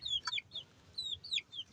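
Native broiler chickens cluck in a quick series of short, faint calls close by, with brief pauses between the bursts and no talking over them.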